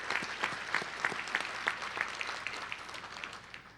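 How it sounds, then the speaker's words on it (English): An audience at a sports hall of fame induction ceremony applauds a past inductee, with moderate, steady clapping from a room full of people and no talk over it. "let's give him a round of applause"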